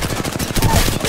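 Rapid gunfire in the Apex Legends battle royale game, a steady burst of close, loud shots running the full length without any talk.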